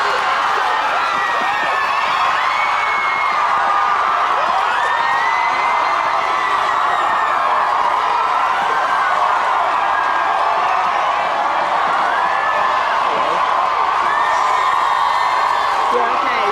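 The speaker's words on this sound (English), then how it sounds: "You have got such a massive, massive, massive crowd of fans out here." A massive crowd of fans outside the Big Brother house at a 2002 eviction roars continuously, with whoops, shouts and cheering blending into a loud, dense wall of noise that never lets up.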